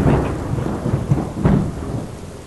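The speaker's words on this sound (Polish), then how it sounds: "Burza w sensie za oknem." A thunderstorm outside a window: deep rolling thunder rumbles over steady rain, loud and close, with no talking.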